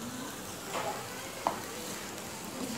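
Onion, spring onion whites, ginger and garlic sauté in a pan for a Manchurian gravy, a steady low sizzle with a couple of brief stirring scrapes, no voices.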